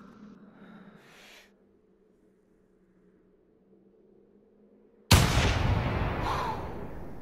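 A hunting rifle fires at a roe deer in theHunter, one sudden loud blast breaking a near-silent stretch with a faint hum, then a long rumbling echo rolling on for a couple of seconds.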